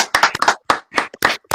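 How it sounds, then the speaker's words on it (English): A few people clapping at an informal live online hangout, a quick irregular run of sharp, close claps with brief gaps between bursts. "give a warm live hangout clap to Mr."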